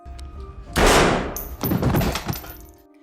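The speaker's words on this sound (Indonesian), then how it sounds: "Ternyata tembakan itu dari si wanita yang terakhir tadi" A gunshot in a gangster action film hits as one sharp, loud blast, followed moments later by a second burst of crashing impact noise that fades out.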